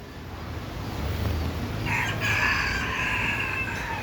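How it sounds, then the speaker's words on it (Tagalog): Chickens cluck softly, then a rooster crows loudly in the middle and carries on, over faint outdoor background noise. "Uy, may manukan pala rito, Abdul."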